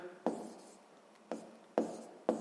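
A pen writes on paper in four short, scratchy strokes spaced irregularly, close and quiet, with soft scraping between them.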